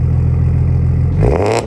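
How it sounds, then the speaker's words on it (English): A BMW with an N54 engine idles with a deep, steady exhaust drone, then briefly revs with a rising, raspy exhaust note before it drops off at the end. "When you hear the exhaust note, it almost has this like S65 characteristic to it."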